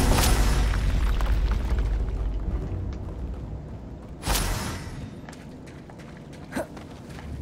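Confringo spell blasts in the video game Hogwarts Legacy: a loud booming explosion at the start that rumbles and decays, a second sharp blast midway, and a smaller pop near the end, with no talking.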